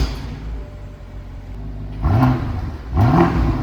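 A BMW 650i fitted with an upgraded M Sport exhaust idles with a low rumble, then blips its engine twice in quick succession, each rev swelling loud and deep before falling back.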